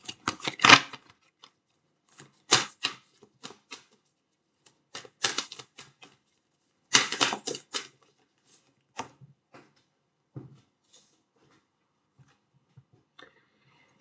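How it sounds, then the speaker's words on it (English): Tarot cards being shuffled by hand in quick riffling bursts, several short clattering flurries separated by pauses, close and fairly loud, fading to sparse light taps near the end. "So let me just shuffle"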